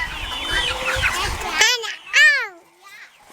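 Chickens cluck and squawk nearby in a few drawn-out calls, first under children's voices and then more clearly on their own.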